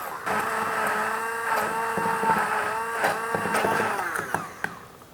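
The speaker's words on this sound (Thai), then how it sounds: "เราก็จะทำการปั่นนะครับ" A blender whirs steadily as it purées a pork marinade for Western-style red roast pork. The motor's whine wavers in pitch with some rattling, and it sounds close and fairly loud.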